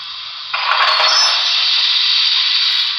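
Coupler slack effect from a BLI Paragon3 PRR L1s diecast hybrid model steam locomotive, a steady hissing, clanking wash that swells in after a brief pause and holds loud and continuous with no talk.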